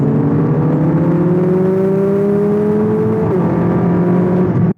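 A 2024 Lexus UX hybrid accelerates with a loud, close engine drone that climbs steadily in pitch, shifts once as if changing gear, then cuts off abruptly.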